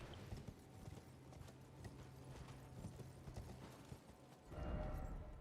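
A horse's hooves clip-clop in the video game Elden Ring, a faint, steady rhythmic trot with light mechanical creaks, rising to a fuller thud of movement near the end.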